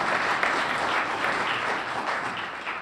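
A conference audience at Clinton Community College applauds, a dense, steady wash of clapping from many hands throughout.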